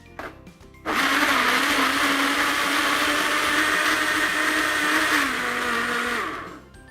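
A blender blending mango, yogurt and water whirs loudly and steadily for about five seconds, its motor pitch dipping slightly near the end before it spins down to a stop.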